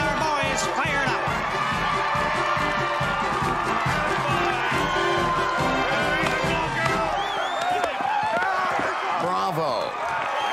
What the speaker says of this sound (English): This homecoming crowd has really got our boys fired up.